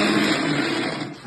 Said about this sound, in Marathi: आम्ही मिक्सरमध्ये बारीक करणार आहे आता